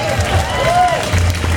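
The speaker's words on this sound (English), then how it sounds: "Round of applause, everyone." A crowd at the 2014 Power Racing Series endurance race in New York applauds the winning team. Dense, continuous clapping and cheering fill the space, with a whistle-like tone and background voices mixed in.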